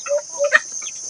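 Chickens on a small farm cluck in short repeated calls, close and clear over a steady high insect-like hiss.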